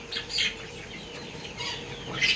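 Free-range village chickens feed at close range, with a few short clucks and soft calls breaking out over a quiet background, and no one speaking.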